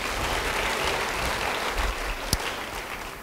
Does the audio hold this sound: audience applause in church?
yes